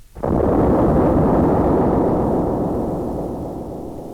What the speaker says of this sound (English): But just then there was a terrific explosion.